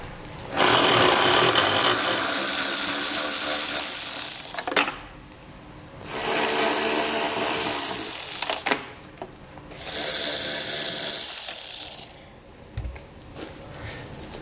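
A power driver backs Phillips head screws out of the taillight assembly on a 2012 Kia Soul, with three loud, steady whirring bursts of a few seconds each and short pauses between them.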